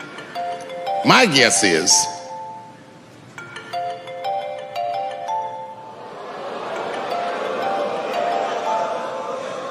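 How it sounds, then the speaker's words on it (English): A mobile phone ringtone chimes a short electronic melody from the audience during a stand-up comedy show, heard under a comedian's talk and crowd noise. "Go on and answer your phone"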